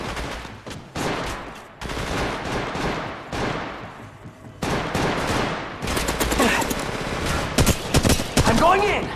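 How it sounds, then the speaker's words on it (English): Mobile battle-royale game gunfire in Apex Legends Mobile: repeated bursts of rapid automatic shots, loud and close, broken by short pauses, with scattered game sounds between the volleys. "Opening fire on the enemy."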